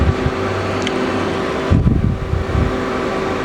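A Citizen M-16III Swiss-type CNC lathe from 2005 runs its sub spindle, giving a steady mechanical hum with a few low thumps and clunks partway through, close and continuous with no talking.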